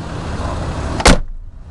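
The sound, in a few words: GM car door closing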